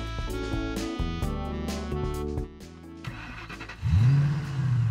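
A toy car engine cranks and turns over, then revs up with a rising whine, loud and close, after a stretch of toy-like electronic tones.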